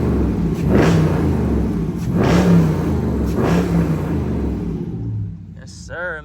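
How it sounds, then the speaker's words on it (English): Dodge Charger R/T with its hood removed revs three times in steady surges, a loud rumbling V8 swelling and falling back, then settles toward idle as a voice cuts in briefly at the end. "I'm gonna give y'all a little rev."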